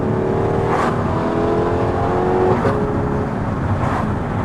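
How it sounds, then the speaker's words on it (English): An Audi R8 engine revs steadily under a loud aftermarket exhaust, with sharp blips as it downshifts several times, close and continuous. "the video will pick it up and you will hear this noise, the downshifts"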